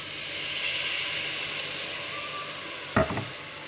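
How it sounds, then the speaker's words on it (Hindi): Potato and aubergine curry sizzling and hissing in a pan, with a short burst of stirring scrapes near the end; no talking. "इसको हिला लेंगे।"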